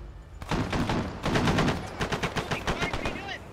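Automatic gunfire in the Arma 3 military game, dense rapid bursts that come loud and close in two long strings, then shorter broken volleys, with no voices over it.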